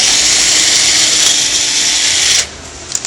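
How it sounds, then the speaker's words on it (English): A power drill whines loudly and steadily, boring a pilot hole while fitting an exhaust port filler panel on a 2005+ C6 Corvette, then stops abruptly, leaving a few faint clicks. "Pre-drill your hole."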